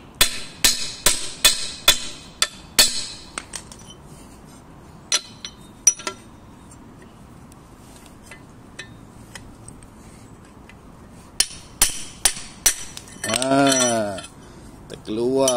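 A metal hoe takes repeated hammer blows as its old, rotten wooden rod is knocked out, ringing metallic clinks coming in rapid bursts at the start and again near the end, with quieter taps between and a voice talking.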